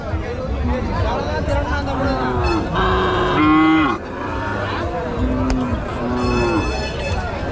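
Cattle moo repeatedly at a busy cattle market, several long calls rising and falling near and far, with someone talking and crowd chatter throughout.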